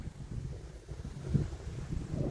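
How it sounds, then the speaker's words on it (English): Steady wind buffeting the microphone by a river in North Arkansas, a low rumbling rush with gusty swells throughout and no voices. "It is windy in North Arkansas today,"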